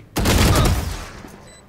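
A loud burst of video game gunfire starts abruptly after a brief quiet moment, holds as a dense rattle for about half a second, then rings out and fades away.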